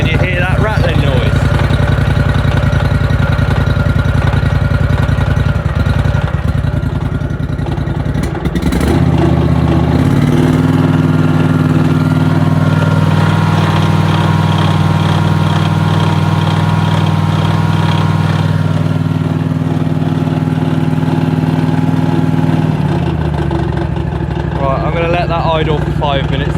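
A Scag ride-on mower with a Kawasaki engine idles at minimum revs, a steady loud engine drone with a persistent rattle from a pulley, and the pitch shifts partway through as the engine settles into idle.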